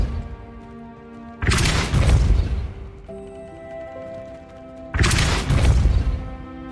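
Two heavy, booming impacts from the Depulso force spell in Hogwarts Legacy, each a loud crash that rolls out for about a second and a half. A sustained tonal music bed plays underneath.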